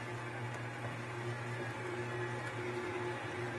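A stand mixer fitted with a dough hook kneads bread dough, giving a steady, close motor whir with a constant hum that holds unchanged throughout, with no voices.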